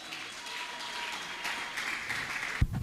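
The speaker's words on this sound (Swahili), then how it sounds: "Piga makofi mazuri." A wedding crowd applauds the couple, a steady wash of clapping that holds at an even level before a sharp thump near the end.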